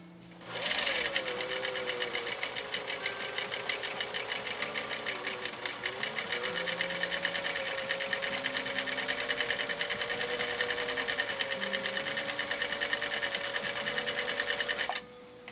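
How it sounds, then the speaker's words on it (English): A 1955 Viking Type 21 sewing machine running a pattern stitch from cam A, a fast, even mechanical clatter with a steady motor whine that starts abruptly, runs for about fourteen seconds and stops sharply, heard close and alone. "All right, here we go. Again, stitch number 2 on cam A."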